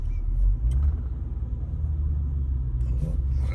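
A naturally aspirated 6.4-liter V8 car engine rumbles low and steady, idling or cruising close by with a deep continuous drone and slight fluctuations.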